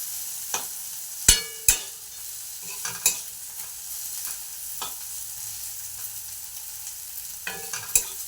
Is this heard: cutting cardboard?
no